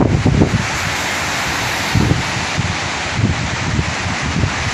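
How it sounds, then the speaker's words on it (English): Waves roll in off Lake Michigan at night during a solo overnight camp, a continuous loud wash of surf mixed with heavy wind buffeting the microphone and low rumbling surges every second or two. "waves rolling in off Lake Michigan."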